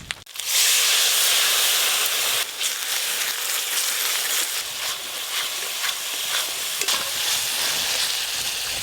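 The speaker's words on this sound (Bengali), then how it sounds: "গুঁড়ো মশলার পেস্টটা দিয়ে দেবো।" Ground spice paste of Kashmiri chilli powder, turmeric and garam masala with water hits a hot pan with a loud burst, then a steady, hissing sizzle continues as the paste is stirred, for a Bengali prawn malaikari.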